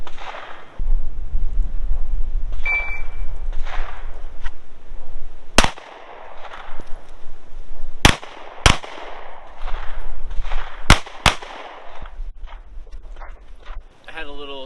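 Several sharp pistol shots ring out during a timed drill at a shooting range, a loud single report followed by a quick cluster of four or five more spaced under a second apart, over steady background noise.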